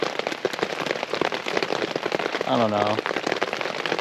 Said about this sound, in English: The rain's just been like super loud